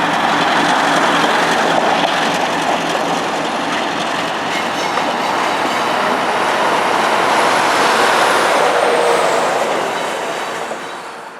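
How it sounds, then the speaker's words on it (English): An intermodal freight train reverses slowly, its railcars rumbling with steady clickety-clack and a thin wheel squeal drawing out high overhead, loud and continuous before easing off at the end. "one of the intermodal trains that we had seen earlier is now reversing back towards the intermodal facilities inside India"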